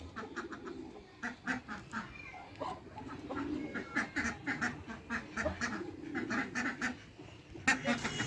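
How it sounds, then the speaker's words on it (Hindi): Duck quacking with its ducklings nearby in a small backyard bird enclosure; repeated short quacks and soft calls, fairly close but faint, over a murmur of other fowl. "डक और डक के ये दोनों चिक्स यहाँ पर घूम रहे हैं, अंदर आए हैं।"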